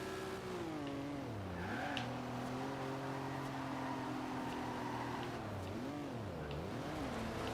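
An old car's engine in Forza Horizon 2 drones steadily throughout, its pitch swooping down and back up as the car slows for turns and accelerates again, loud and continuous with no talk.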